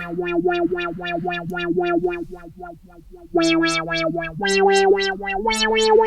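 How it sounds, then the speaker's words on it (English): A Synthstrom Deluge synthesizer plays repeated notes whose pitch wobbles quickly up and down from a fast LFO, the tone getting brighter and louder partway through, with no voices. "what's happening now is that frequency is getting turned based on the shape of and speed rate of whatever that LFO"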